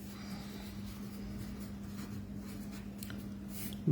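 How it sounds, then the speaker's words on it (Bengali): A hand writes out an area formula for a triangle, producing faint, steady scratching strokes over a low constant hum, with no voice. "আমরা ক্ষেত্রফল যখন বলছি ক্ষেত্রফলের সূত্র লিখবো আগে"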